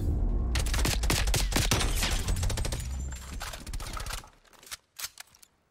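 Rapid bursts of FFAR assault rifle fire in Call of Duty: Black Ops Cold War gunfight mode, loud sustained automatic volleys that break into shorter separate shots and fade toward the end.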